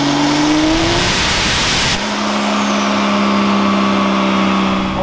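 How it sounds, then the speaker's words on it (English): Diesel truck engine on a dyno, loud and close, revving up with a rising whine, then dropping at a gear change and pulling hard again with a steady droning roar. "I figured you guys wanted to see a diesel dyno run."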